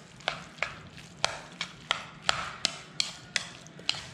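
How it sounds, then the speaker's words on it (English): A utensil stirs stuffed pepper filling seasoned with salt and pepper, giving a steady series of about a dozen sharp scraping knocks at a regular rhythm, close and clear with no talking. "And I'm just gonna mix all together until combined."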